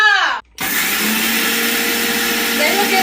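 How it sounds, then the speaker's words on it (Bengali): A kitchen blender whirs loudly and close by in a steady motor drone, after a brief spoken moment and a short pause at the start. "আমি ব্লেন্ডার করে দেই, তারপর আবারও কথা বলতে সাথে থাকি।"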